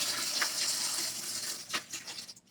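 Water pours and splashes steadily while a tank is being filled, a dense rushing hiss with a few louder sloshes, close by and with no talk over it.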